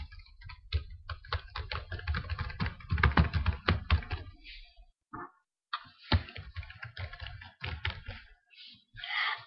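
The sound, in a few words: tapping noises made loudly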